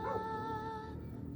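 Faint, thin whining from a dog outdoors on a brush-covered hillside, a steady high tone with a slight waver lasting about a second, distant and quiet above low background noise.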